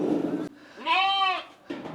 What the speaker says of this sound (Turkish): Şöyle size bir de kuzularımızı göstereyim.